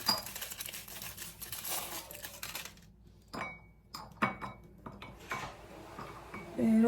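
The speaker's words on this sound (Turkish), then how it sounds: "robot boşaltıyor arkadaşlar haznesini. O yüzden bu kadar ses çıkıyor." A kitchen food processor's bowl being emptied, with irregular clattering, scraping and clinking of plastic and metal parts close by, in bursts with short quieter gaps and a louder clatter at the end.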